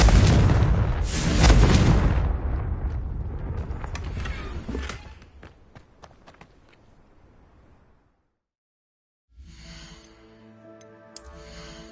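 Confringo explosive spell in Hogwarts Legacy, a loud booming blast that rolls and decays over several seconds, then silence before another muffled burst of game effects.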